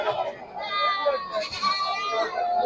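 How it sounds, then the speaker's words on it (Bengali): Goats bleat over and over at a busy local goat market, several overlapping calls near and farther off, with people talking in the background. "অসংখ্য ছাগল রয়েছে আমাদের এই হাটে।"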